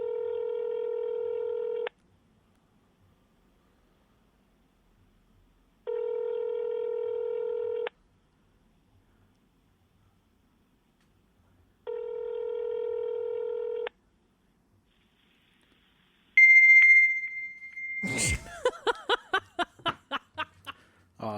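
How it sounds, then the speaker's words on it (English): Telephone dialing tones from a prank call placed to a fax machine: three evenly spaced steady two-second tones, then a high shrill tone followed by a rapid pulsing screech of fax handshake noise. "Your prank calling a fax machine was very apropos."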